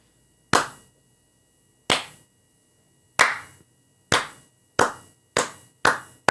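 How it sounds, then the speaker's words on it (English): Slow, deliberate hand claps, eight sharp claps from a single person spaced well apart at first and quickening slightly toward the end, close and clear with silence between them. "Slow clap for Cathie."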